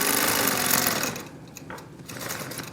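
A Gammill Vision 2.0 longarm quilting machine stitching cross-hatching, a loud rapid whirring needle rhythm that runs steadily, then drops in level and continues more quietly in short bursts.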